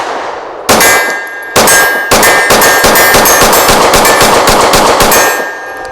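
Kimber R7 Mako pistol shots ring off C-Zone steel targets, a few spaced loud cracks followed by a rapid string of shots, each with a sharp metallic clang, close and loud.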